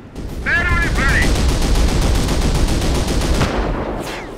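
Sustained battlefield gunfire and distant explosions rumble continuously around a base in the WWII strategy game Company of Heroes (Blitzkrieg mod, Hill 331), with brief radio-style voice chatter near the start.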